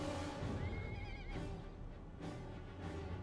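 A cavalry horse whinnies in a Total War: Rome 2 battle, one rising, wavering neigh lasting under a second. It sits over a constant wash of distant battle noise.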